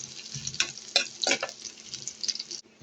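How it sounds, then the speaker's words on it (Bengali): Onion fries in a pan with a steady crackling sizzle and a few sharper pops, close and fairly quiet, with no one speaking. "এই যে আমার পেঁয়াজটা ভাজা হচ্ছে"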